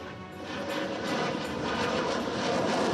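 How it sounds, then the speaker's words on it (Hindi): About fifty military aircraft, including supersonic Rafale fighter jets, fly overhead in a special formation, making a broad, steady roar that slowly swells in loudness, with no talk. "इस दौरान करीब 50 विमानों ने एक विशेष फॉर्मेशन में उड़ान भरी"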